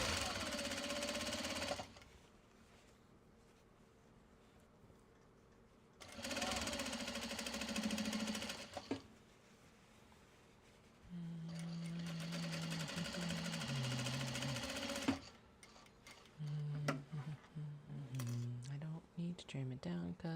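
A sewing machine chain pieces fabric for Japanese fabric and upcycled denim belt bags, running in loud, rapid buzzing bursts separated by pauses, with a voice speaking quietly between and under the stitching.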